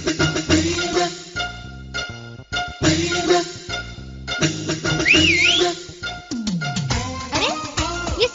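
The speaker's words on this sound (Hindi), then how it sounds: "अरे ये सीटी किसने बजाई?" A whistle blown outside a house in a Hindi drama scene, a few rising and wavering tones heard over loud background music.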